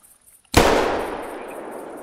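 A single loud, close blast from a 16 gauge double-barrel shotgun fired at birds, with a sharp onset and a long fading outdoor echo after brief near-silence.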